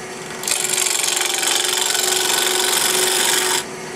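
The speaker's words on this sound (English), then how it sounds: "I'm using a 1/2 inch Ellsworth grind gouge" A 1/2 inch Ellsworth grind gouge from D-Way Tools cuts wood on a lathe while turning a pin tray, giving one steady, close, rasping hiss that lasts about three seconds, with quieter lathe hum before and after.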